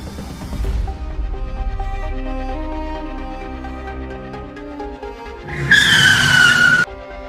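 A car skids to a sudden stop, ending in a loud, high tire squeal over a backdrop of engine rumble and music, the screech lasting about a second near the end.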